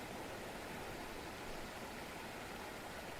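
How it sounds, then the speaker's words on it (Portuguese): Faint, steady rushing of falling water, a constant hiss-like roar with no breaks and no voices. "O som da água caindo"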